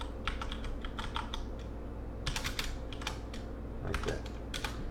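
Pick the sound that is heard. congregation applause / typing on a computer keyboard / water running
typing on a computer keyboard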